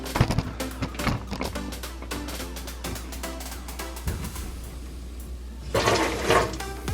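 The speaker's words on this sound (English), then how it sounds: "I'm turning the faucet on from up here, and it's spraying the water down here" A kitchen faucet is switched on during installation, a sputtering spray of water with clicks and knocks, ending in a louder rushing burst near the end.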